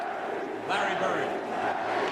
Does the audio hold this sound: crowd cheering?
yes